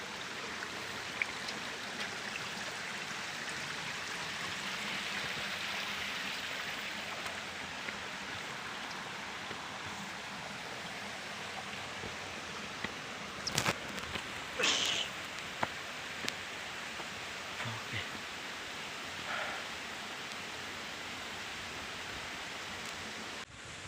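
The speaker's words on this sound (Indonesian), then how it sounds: "Selamat datang di air terjun Melaten Koko" The Mlangen Kokok jungle waterfall near Ponorogo gives a constant broad rushing roar of falling water, steady and enveloping for the whole stretch, with a few faint knocks.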